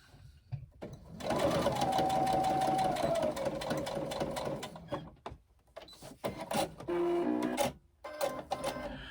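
A sewing machine stitches fabric in a sustained, steady, close whirring run, then stops and starts in shorter bursts, with a voice heard faintly around it.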